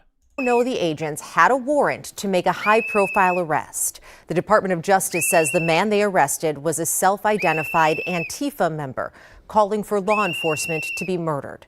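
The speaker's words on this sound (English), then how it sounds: "You can hear the whistle in the background." Protesters' whistles shrill in repeated steady bursts behind a newscaster's continuous narration during a federal agents' arrest in Minnesota, the whistles fainter than the voice.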